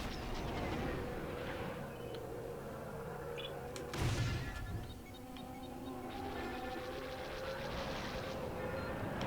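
Enemy starfighters open fire in the Star Wars Squadrons space combat game, a loud burst of blaster fire and impacts around the four-second mark over a steady, continuous engine roar and game noise.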